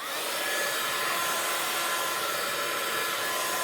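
A crafting heat tool blows steadily to dry ink droplets on a card, a constant close-up whooshing roar with no pauses and no talk.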